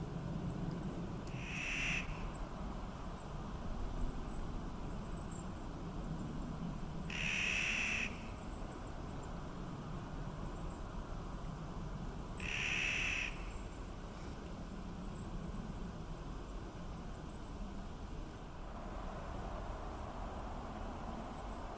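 A bird gives a woodpecker-like call, three short repeated notes spaced several seconds apart, moderately loud over a steady background hiss of outdoor noise.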